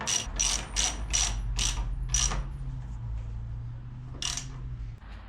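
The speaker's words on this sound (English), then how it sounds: "I can just go ahead and tighten these all the way." Ratchet clicking while tightening bolts on a Honda Civic EK strut: several quick bursts of sharp ratcheting clicks in the first two seconds, a pause, then one more short burst, close and fairly loud over a low background hum.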